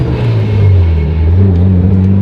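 Mitsubishi Evo 9 engine idling with a steady low rumble, revving lightly and evenly, loud and close throughout.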